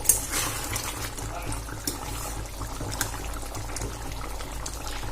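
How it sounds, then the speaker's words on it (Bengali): Chicken braising in a pan as kosha, with a constant bubbling, hissing simmer and an occasional soft knock, close and moderately loud, no speech. "আমি আর কিছুক্ষণ এটা কষিয়ে নেবো"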